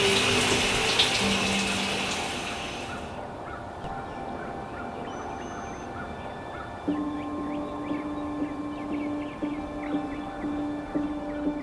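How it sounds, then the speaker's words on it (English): Water from a shower runs steadily in the bathroom of a newly built home, making a continuous broad rushing hiss. It drops in intensity partway through while a faint tonal hum continues. "I'm about to get my first shower in our new home that we've built together."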